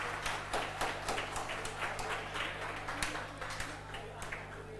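Scattered hand claps from a few people in a classroom, sharp separate slaps at an uneven rhythm over a low electrical hum, fairly faint.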